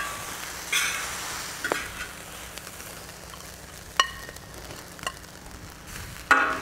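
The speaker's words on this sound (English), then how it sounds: "Add just a little bit of the pepper. Mix that up and ready to serve." Fried rice sizzles on a plow disk grill outdoors, with a soft steady frying hiss broken by several sharp scrapes and clanks of a spatula as the rice is stirred.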